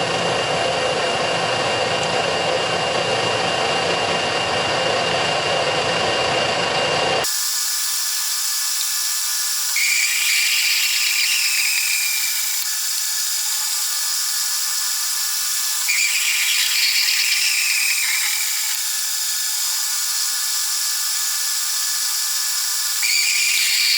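A Colchester Master lathe running at 235 RPM gives a loud, steady whirring hiss, then shifts abruptly to a higher, thinner whine that swells and fades a few times, with no talk.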